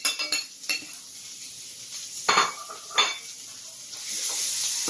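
Eggplant sisig sizzles in a pan while it is stirred, with several sharp scrapes and clinks of the utensil against the pan, close up, before a louder hiss of frying rises at the end.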